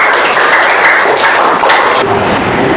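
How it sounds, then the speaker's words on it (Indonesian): A classroom of students clapping for a presenting group, a brisk continuous patter of many hands at close range without talk. "kasih tepuk tangan ke kelompok 5"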